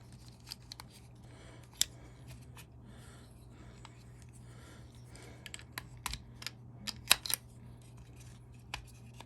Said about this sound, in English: Trusty screwdriver, go.